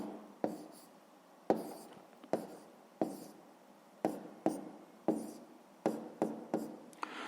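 Pen writing by hand on paper while working a sixth-grade maths exercise: a series of short scratchy strokes, about a dozen distinct bursts with brief pauses between, close and clear with no talking.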